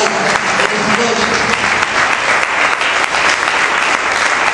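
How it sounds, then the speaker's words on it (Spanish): A church congregation applauds during a Spanish-language evening sermon, a loud, dense wall of clapping that holds steady from start to finish. "Aplauda al Rey por una palabra que usted recibirá en esta noche."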